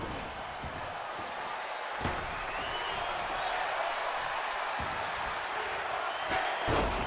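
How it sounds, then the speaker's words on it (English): Arena crowd noise in a WWE wrestling video game during a TLC match, a steady broad roar of chanting fans with a few sharp slams and impacts cutting through. "This crowd chanting they want tables."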